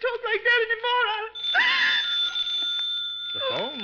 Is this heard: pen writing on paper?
no